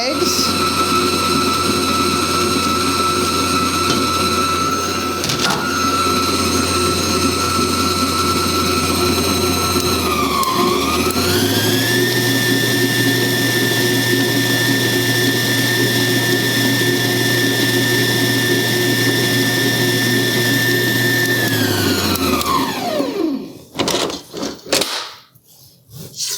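An Aumate tilt-head 8.45-quart, 660-watt stand mixer beating eggs with its paddle, a loud steady motor whir with a rhythmic paddle slap that shifts pitch and speed partway through, then winds down near the end amid clatter.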